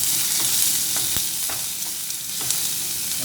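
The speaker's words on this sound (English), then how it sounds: "The onions will start sputtering now." Onions sizzling and sputtering in a frying pan for chicken fried rice, a steady close hiss broken by small sharp pops.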